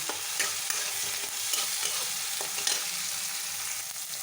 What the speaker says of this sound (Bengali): এগুলোকে আমি হালকা করে ভেজে নেব ভেজে ঠান্ডা করে এটাকে পেস্ট করব